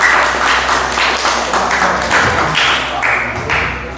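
An audience at a public Islamic book examination bursts into applause, loud, close rhythmic clapping in several rolling surges that swell and ease across the stretch.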